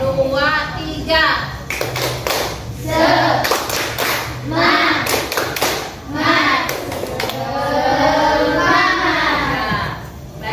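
A classroom of children performs a rhythmic spirit clap, with loud, patterned bursts of handclaps and taps alternating with the group chanting in unison, close and energetic.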